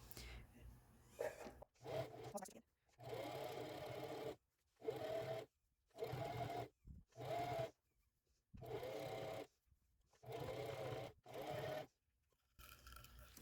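A sewing machine stitching a pajama top, running in repeated short bursts of steady whirring separated by brief pauses.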